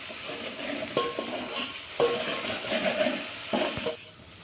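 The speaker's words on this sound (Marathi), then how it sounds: "त्यानंतर अद्रक लसूण पेस्ट टाकायचा ते पण छानसे परतून घ्यायचं" Ginger garlic paste sautéing in a pan for Puneri misal, with a steady sizzle broken by several distinct spoon scrapes and knocks against the pan at irregular intervals, close and without speech.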